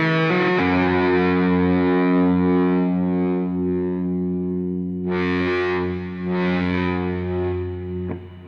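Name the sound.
electric guitar with Seymour Duncan pickup through heavy distortion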